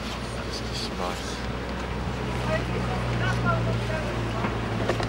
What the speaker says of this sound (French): Il y a quelque chose qui va pas au moteur